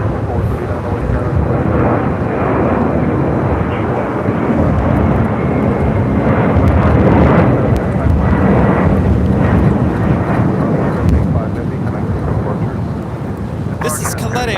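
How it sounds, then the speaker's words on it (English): A Boeing 747-400 freighter jet takes off from LAX bound for Miami, producing a loud, continuous, rumbling roar that holds steady throughout before easing slightly at the end. "This is Caleta Air 785 taking off to Miami on a 747-400 freighter."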